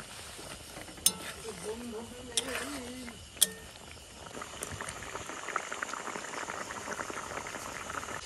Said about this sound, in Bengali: জল দেওয়ার সাথে সাথে ফোট উঠে গেছে